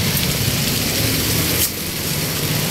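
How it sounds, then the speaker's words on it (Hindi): Heavy monsoon rain pours down on a street while people wait for a rickshaw, a loud dense steady hiss with a brief dip partway through. "ये देखिए कितनी मोटी बारिश हो रही है।"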